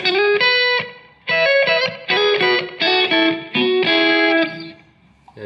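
An electric guitar played through a delay pedal, with a Keeley Caverns, Maxon AD9 or Catalinbread Belle Epoch in play and its record level turned up. Bright, slightly distorted chord strums ring out in short bursts, each tailing off with brief echoes and gaps between.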